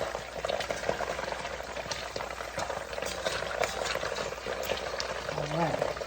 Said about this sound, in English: so I'm going to turn it over to fry the other side.